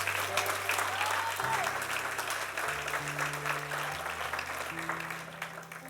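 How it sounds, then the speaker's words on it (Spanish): Congregation applauding the Lord during a church service: steady, dense clapping throughout, with sustained musical tones or organ notes shifting underneath. "Dale un aplauso al Señor"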